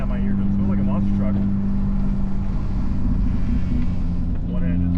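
A loud truck drives past on a winding mountain road, its heavy low engine rumble steady and close throughout, heard from inside a passing vehicle with wind noise and voices talking over it.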